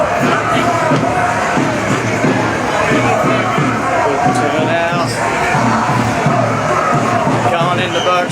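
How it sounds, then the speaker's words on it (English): A dense rally crowd in Bourke Street Mall makes a loud, continuous babble of voices with chanting and shouts rising over it, heard close up from within the crowd. "we'll cross over and through the crowd"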